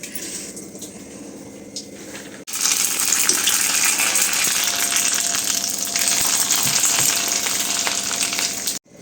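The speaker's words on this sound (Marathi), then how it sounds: "हे मस्त असे आता इथं पोंगे तळते मी चटपट खाण्यासाठी, चटपटीत" Pongé snacks being deep-fried in hot oil: a loud, dense, continuous bubbling sizzle that starts suddenly after a quieter opening and holds steady close up, with no voices.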